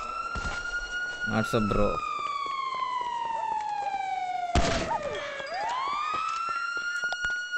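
A police car siren wails in GTA 5, a loud, steady tone sliding slowly downward and then abruptly rising again, close by, with someone talking over it briefly.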